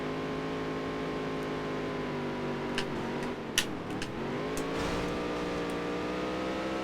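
A race car engine in the video game Dirt to Daytona drones steadily through practice laps, its pitch shifting slightly as it runs, with a few sharp clicks and a brief dip around a corner.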